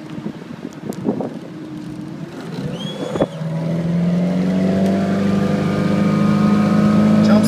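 A motorboat opens up and accelerates onto plane, the engine leaping to a loud, steady roar after a quieter idling start, with wind buffeting the microphone.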